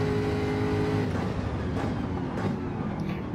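Jaguar F-type sports car at full throttle on a race track through a fast double right-hand bend, a steady loud engine drone with tonal harmonics from start to end, no voices.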